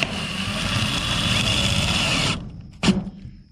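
A power driver whirs steadily for about two seconds, sinking screws to fit a twist lock on an enclosed race trailer, then stops. A brief clunk follows a moment later.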